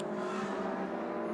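Ferrari 458 Evo race cars with 4,400cc mid-engines scream steadily at Mugello, a sustained high-revving whine at moderate distance with no talk over it.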